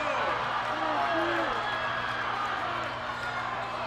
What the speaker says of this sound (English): The crowd loved that one.